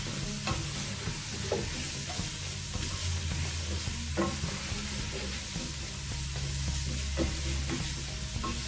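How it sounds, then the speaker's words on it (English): Bacon sizzles steadily in a hot pan while it gets stirred and pushed around, with soft scraping knocks at irregular intervals over a continuous frying hiss; no one speaks. "So we're just going to go ahead and throw this bacon in there. Move it around in the pan a little bit."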